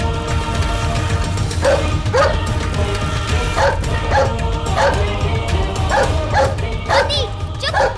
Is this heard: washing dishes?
no